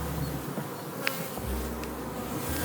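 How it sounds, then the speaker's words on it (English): A honeybee swarm hangs from a tree in spring, near the hives, and hums with a steady, dense buzz. Occasional single bees zip close past the microphone. "So this is what a bee swarm looks like."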